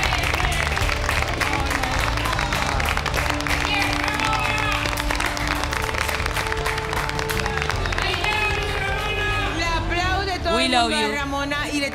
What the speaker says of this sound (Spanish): Aplausos de pie, señoras y señores, para Ramona.